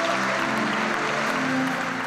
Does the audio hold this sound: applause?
yes